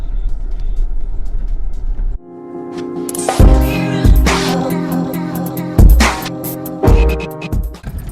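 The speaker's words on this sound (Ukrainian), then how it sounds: "Чути якийсь стільки звук двигуна" An Audi A6 (C4) 2.5 TDI diesel engine hums steadily at low pitch, then the tone changes and loud thumps and rattles break in at intervals.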